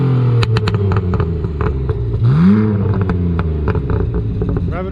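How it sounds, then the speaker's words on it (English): A tuned BMW E46 engine revs hard and loud, its exhaust crackling with a rapid series of sharp pops and bangs between rising and falling revs, close up with no talking. "the pops, as you can hear, are insane"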